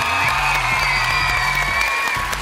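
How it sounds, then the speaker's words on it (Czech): A television talent show studio audience on the X Factor stage breaks into loud applause and cheering, a dense roar over sustained sung or held tones, close and full for a couple of seconds. "obrovský potlesk poprosím pre dievčatá,"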